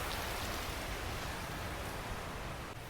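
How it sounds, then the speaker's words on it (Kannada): Heavy rain pours down in Kerala's hills in a dense, unbroken roar that stays loud and even throughout, with water running. "ಫುಲ್ ಜೋರಾಗಿ ಮಳೆ ಬರ್ತಾ ಇದೆ, ನೀರು ಕೂಡ ಹರಿತಾ ಇದೆ"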